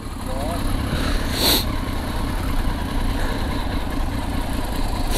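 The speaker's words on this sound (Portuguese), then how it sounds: "Deu barulhinho, é 3 cilindros." Triumph Street Triple 675 three-cylinder motorcycle engine idling with a steady low rumble throughout, close by, under people talking.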